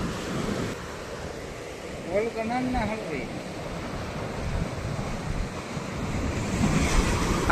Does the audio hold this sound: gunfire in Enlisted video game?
no